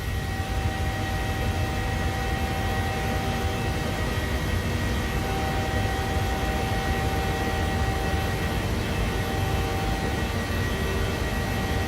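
Simulated airplane engine drone in Microsoft Flight Simulator 2020 on a climb out after flaps up, a steady broadband hum with faint tonal whine, continuous and unchanging, no voices.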